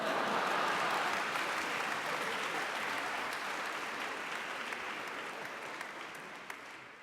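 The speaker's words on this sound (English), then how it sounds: "Where's the applause?" A large audience at an opening convocation ceremony claps steadily for about seven seconds, a dense, even wash of hands that fades slightly toward the end, with no voices over it.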